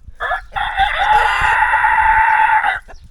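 A loud rooster crows nearby in a quiet rural village in Samcheok, South Korea, one long sustained call of nearly three seconds after a brief lead-in.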